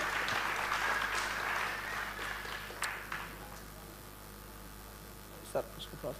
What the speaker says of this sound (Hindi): एक बार जोरदार तालियां इसके लिए बजाएं।